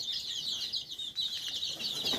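Gavran native-breed chicks, about 25 days old, cheep and cluck continuously in a busy overlapping chorus, close and fairly loud, with no talking.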